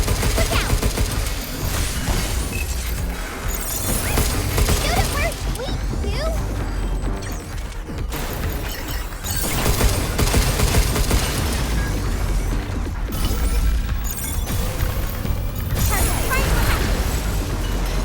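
Gunfire and crashing impacts from the video game Pragmata fill the scene in dense, continuous bursts with explosive hits, mixed with game effects and a voice talking.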